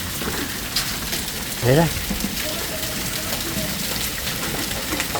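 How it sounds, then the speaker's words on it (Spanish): Hard hail pounding down during a storm in Nogales, Arizona, a dense steady clatter filling the scene while a voice speaks briefly over it. "Tremendo granizo."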